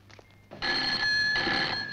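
A telephone starts ringing after a brief quiet moment, a steady electronic trill that holds loud and close through the rest of the clip.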